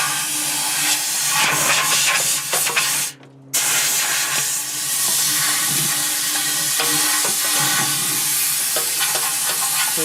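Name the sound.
air compressor blowing rust flakes out of Harley fuel tank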